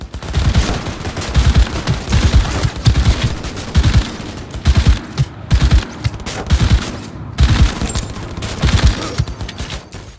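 Smart gun firing in Cyberpunk 2077, rapid bursts of loud, close shots in quick clusters separated by brief pauses, running throughout without speech.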